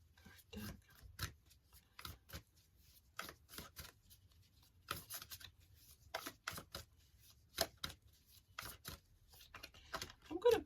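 Oracle card deck being shuffled and riffled in a quiet room, a series of crisp papery bursts and rubs arriving in irregular clusters, close and fairly soft.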